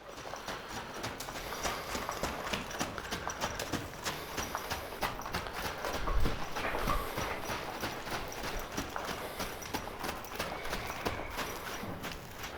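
A five-year-old Mustang mare moves about, her hooves clip-clopping in a fast, uneven patter that sounds somewhat distant and faint, with a louder thud partway through.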